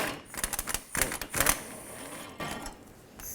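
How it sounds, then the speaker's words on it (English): A ratchet on a 15mm socket with a long extension loosens a fuel tank strap bolt on a 2003-2021 Chevrolet Express 3500, a quick series of sharp mechanical clicks in bursts, close and clear. "With a 15mm socket and a long extension, I'm gonna take this bolt off here for the strap."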